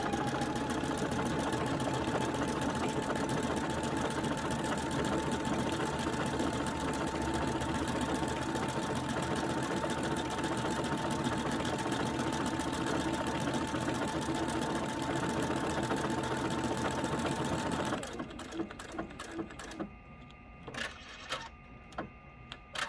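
A sewing machine runs steadily, stitching over and over through gesso-resist fabric art, a continuous mechanical whir that stops near the end, leaving scattered handling clicks and taps.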